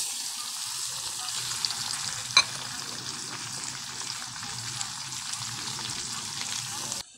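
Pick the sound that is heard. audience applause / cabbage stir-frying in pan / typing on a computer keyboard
cabbage stir-frying in pan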